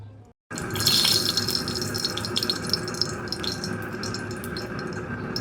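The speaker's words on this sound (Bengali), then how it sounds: "আমি এখানে মাছটাকে ভালো করে ধুয়ে নিয়েছি" Fish being washed under a running kitchen tap, a steady broadband splash of flowing water that continues evenly and fairly close throughout, after a brief quiet start.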